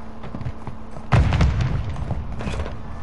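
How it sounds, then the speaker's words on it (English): A grenade goes off in a Call of Duty match: one deep, close boom lands after a moment of quieter game noise, then a rumbling tail with scattered clatter follows. "Grenade out!"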